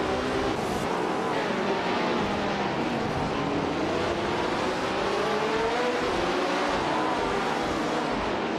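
Race cars in a racing video game launching off the start line, among them a classic 1967 Brabham, their engines a steady loud roar with revving layered throughout.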